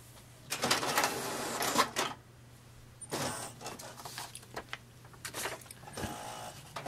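A printer runs off a page from PrintMaster Gold in a series of short, uneven mechanical bursts of whirring and clattering, with brief quiet gaps between them, over a faint steady hum.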